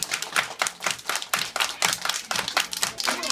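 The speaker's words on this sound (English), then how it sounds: "Everybody clap your hands." Children clap their hands together in a steady rhythmic beat at a preschool cha cha dance celebration, a group of sharp claps repeating about every half second, moderately loud.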